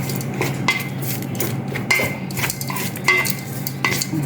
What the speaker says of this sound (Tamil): நம்ம இந்த நெல்லிக்காய் பேஸ்ட்டு போட்டுருங்க. போட்டு நல்லா மிக்ஸ் பண்ணிக்கலாம்.